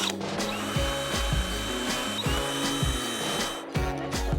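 A power drill whirs steadily while drilling a hole in an abandoned mobile home, its motor pitch dipping and rising repeatedly as it bites in, close and loud with no talking.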